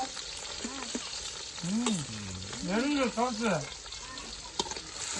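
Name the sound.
chicken curry being sautéed in a pan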